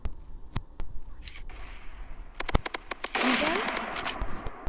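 Shotgun fire in a mobile shooter game, with several sharp, loud blasts spaced irregularly, some in quick bursts, followed by a crackling burst of noise.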